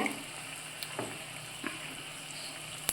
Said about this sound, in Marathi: आता आपलं तेल बऱ्यापैकी गरम झालेलं आहे, आता आपण पकोडे काढून घेऊया।